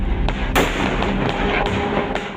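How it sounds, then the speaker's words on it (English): Firecrackers bursting on Diwali night, a dense crackle of overlapping pops with several sharper bangs standing out, loud and continuous across the whole stretch. "Firecrackers on Diwali night."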